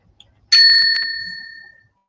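A timekeeper's bell at a debate competition final is struck a single time, giving one bright, close ding that rings on and fades out smoothly over about a second, with nothing else heard around it.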